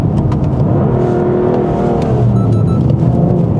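A 2019 BMW F87 M2 Competition accelerates hard in Sport Plus mode at a driving centre. The engine note is loud and close, rising steadily as the revs climb, with no talk over it.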